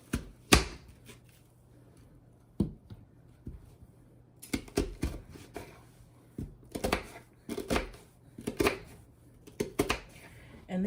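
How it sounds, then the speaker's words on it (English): A knife chops an onion on a cutting board for cholent stew, with a few scattered knocks early on, then a quick run of close, crisp chopping taps. "chop up my onion"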